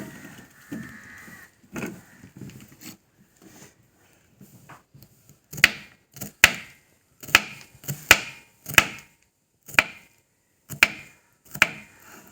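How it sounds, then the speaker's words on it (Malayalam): Bilimbi fruit chopped with a knife on a board, a series of sharp, close cuts arriving in an uneven rhythm after a few quiet opening seconds of soft rustling. "നമുക്കിനി പുളിഞ്ചിക്കയും കൂടെ അരിയാം"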